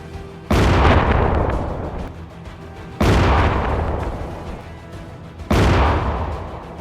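Three heavy booming blasts from a Ukrainian tank firing on enemy positions in a village, each a sharp loud report followed by a long rumbling decay, spaced roughly two and a half seconds apart.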